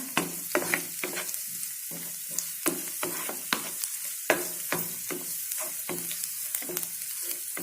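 Crushed garlic and ginger fry in a pan while a spatula stirs them, giving repeated sharp scrapes and taps at a quick, uneven rhythm over a constant bright sizzle, close and moderately loud.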